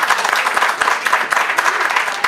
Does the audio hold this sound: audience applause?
yes